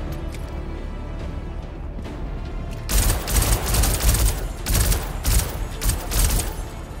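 Rapid gunfire aimed at the player in the Star Citizen space game: after a quiet stretch, a loud sustained fusillade of repeated shots rattles on with irregular bursts until the end.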